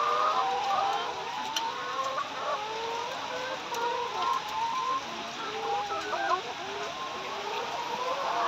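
Chickens kept in cages on a poultry farm cluck and chatter continuously at a moderate distance, a busy overlapping flock sound with no clear talking.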